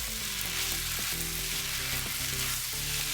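Vegetables and green onions stir-frying for Singaporean rice fill the clip with a loud, dense, close sizzle and hiss, while stirring shuffles continue under it, with no one talking.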